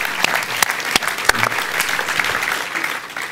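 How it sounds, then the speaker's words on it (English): Audience applause at a live WordPress speed build contest at WordCamp Europe 2024: dense, steady clapping from a crowd, with a few sharper claps standing out, sustained for a few seconds without talk. "Let's give them one final round of applause, because that was awesome."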